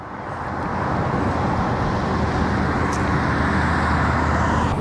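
An electric unicycle's tire rolls over a road surface with a steady, continuous broadband hum and road rumble, unbroken throughout and without speech.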